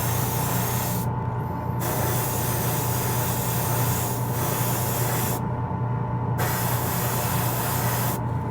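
Spray paint hissing steadily as a wet coat goes onto Spiderman mask eyes, continuous close spraying broken by a few short pauses and a constant low hum beneath.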